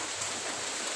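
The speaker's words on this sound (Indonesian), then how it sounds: "kondisi sore ini hujan" Steady afternoon rain falls as a dense, even hiss, constant and moderately loud with no breaks or voices.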